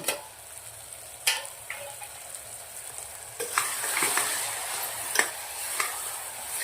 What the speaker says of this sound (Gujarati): બે મિનિટ સુધી મસાલાને તેલના અંદર ચોરી સાથે શેકી લેશું